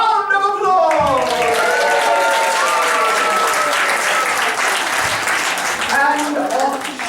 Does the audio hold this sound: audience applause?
yes